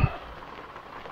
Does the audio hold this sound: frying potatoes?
no